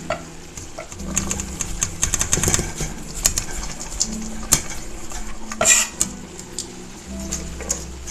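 Diced onion tipped into a pan for mushroom, cabbage and lentil soup, with close clattering of utensil against pan, scraping and stirring, and a few sharp knocks and rustles throughout.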